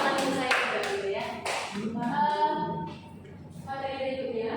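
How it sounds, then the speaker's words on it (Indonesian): Short, scattered hand claps from a seated audience at a presentation on positive culture, heard at the start and then giving way to a person speaking at moderate volume. "Selanjutnya tinggal lagi tepuk tangan."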